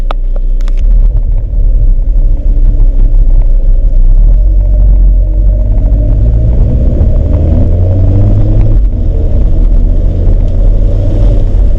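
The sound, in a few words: Alfa Romeo 4C driving with roof off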